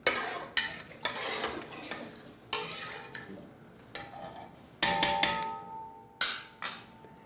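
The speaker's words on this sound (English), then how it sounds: "I'm gonna put some sliced mushroom. It's about a cup of sliced mushroom. And I'm gonna stir it" Sliced mushrooms stirred in a pot, a spoon scraping and knocking against the metal in a series of close, distinct strokes with a light sizzle beneath.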